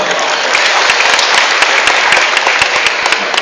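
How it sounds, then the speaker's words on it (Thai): Wedding guests at a Thai reception break into loud, close applause, sharp individual claps popping out of a thick continuous wash that carries on for the whole stretch. "ขอเสียงปรบมืออีกครั้งหนึ่งครับผม"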